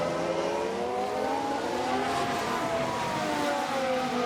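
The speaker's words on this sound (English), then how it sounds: "Sounds like a few cars have crashed." Racing engines in the video game F1 Manager 2022 at the Belgian Grand Prix, as several cars crash, whine and rev in layered, sliding tones, a steady roar of several cars at once with no clear impact.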